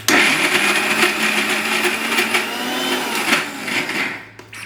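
A mixer grinder whirs steadily while grinding soaked chana dal with a little water, a loud continuous motor whine that holds for several seconds and then winds down at the end.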